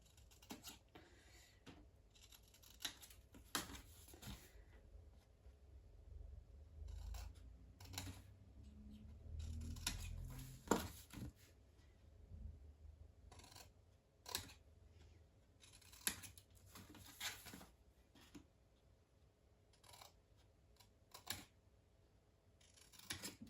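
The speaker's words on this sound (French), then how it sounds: "Coupez bien le long de votre ligne de pliure, hein, que ça soit joli" Scissors cut paper along a fold line while making a scrapbook baby nightlight: quiet, close snips and rustles in irregular bursts with pauses between them.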